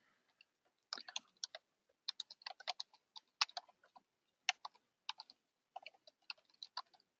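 Someone types a note on a computer keyboard in a law-office client portal, producing irregular bursts of crisp, close key clicks with short pauses between them in an otherwise quiet room.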